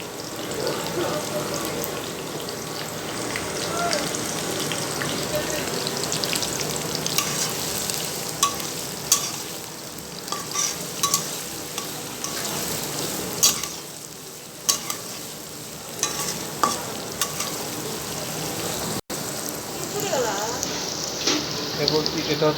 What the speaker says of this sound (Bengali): এরপরে কিছু পরিমাণ দারচিনি দিয়ে আমরা নেড়ে নিচ্ছি।